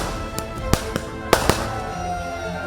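Firecrackers and fireworks go off at a Diwali celebration by BSF soldiers on the Jammu-Kashmir international border: a scatter of sharp, separate bangs, about six in under three seconds, with a soft hiss underneath.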